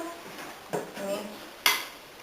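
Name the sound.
egg being spun on a surface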